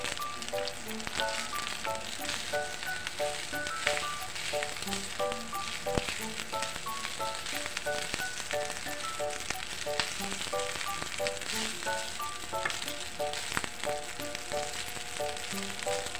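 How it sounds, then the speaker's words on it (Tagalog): Mashed rice fries in a hot pan for sangag with a steady, close sizzle that runs without a break, and a lighter patter of crackles sits above it. "Ang gagawin po natin dito ay magsasangag muna tayo."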